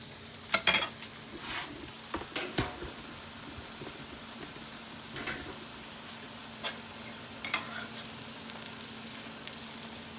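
A corn tortilla frying in hot grease, giving a soft steady sizzle with a few sharper pops and crackles early on, then quieter bubbling spits scattered through the rest.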